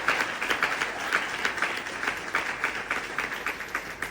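Congregation clapping in steady rhythmic waves during a worship service, dense and sustained applause throughout with no distinct voices standing out.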